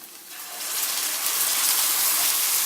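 Sauce pours into a pan while making daal, a rising wet hissing gush that swells within the first second and then holds steady and fairly loud, with no talking.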